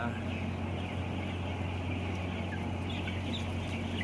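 A large flock of about 38,000 chickens in a poultry house clucking and murmuring continuously, with a steady mechanical hum beneath the noise.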